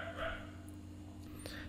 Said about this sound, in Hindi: अब कुत्ते हैं ना, कुछ कर नहीं सकते इनका